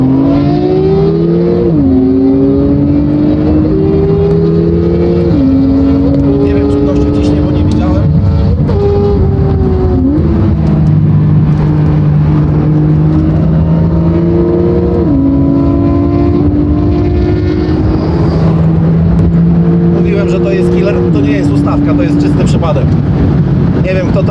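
A tuned Porsche 911 Turbo S (991) of roughly 630 hp accelerates hard beside a Suzuki GSX-R motorcycle, loud engine tones climbing repeatedly through gear changes with wind rush throughout.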